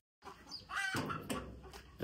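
Chickens clucking among hens with young chicks, in short, close, fairly soft calls with a louder burst at the end.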